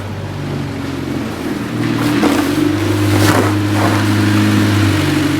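A 1995 Honda Civic with a fluctuating idle is driven into a repair shop, its engine humming steadily and then swelling louder midway as it rolls in, with a few brief knocks and clatters over the drone.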